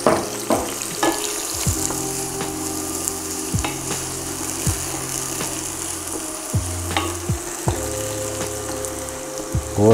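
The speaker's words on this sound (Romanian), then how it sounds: "Acum punem ceapa și usturoiul." Sliced mushrooms, onion and garlic fry in a pan on a stovetop, a steady close sizzle running throughout with occasional stirring clatters and a low background hum.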